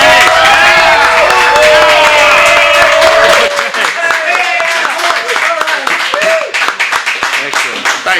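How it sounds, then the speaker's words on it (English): A crowd at an evening community event in Petaluma applauds loudly and close, mixed with cheering and excited voices, then breaks into scattered, irregular clapping that thins out over eight seconds. "let's hear everybody applaud"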